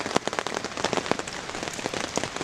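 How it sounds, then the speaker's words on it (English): Rain patters steadily on a surface outdoors on a wet day along the Appalachian Trail near Duncannon, with dense, close drops spread evenly across a short stretch. "So it's raining"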